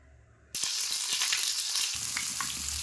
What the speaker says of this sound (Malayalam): ചൂടായ ഫ്രൈപ്പാനിലേക്ക് വഴുതനങ്ങ ഓരോന്നായി ഇട്ട് കൊടുക്കുക